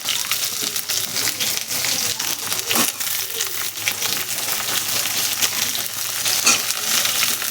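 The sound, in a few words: frying onion and pointed gourd (potol) in a pan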